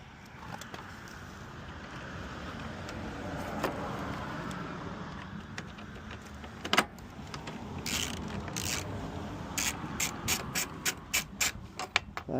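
Ratcheting and screwing sounds while screws are driven back in during radiator and headlight replacement on a 2009 Honda Civic, soft at first, then a run of quick sharp clicks toward the end.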